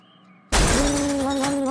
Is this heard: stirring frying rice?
no